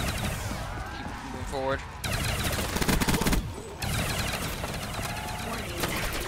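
Rapid automatic gunfire in Black Ops 3 Custom Zombies on the Leviathan map, loud sustained bursts with short breaks, other game effects mixed in, a voice speaking briefly over the shooting.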